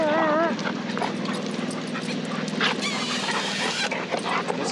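Several Labmaraner dogs play together outdoors, whimpering, yelping and barking in a continuous busy jumble that stays close and loud throughout, with a person's voice mixed in.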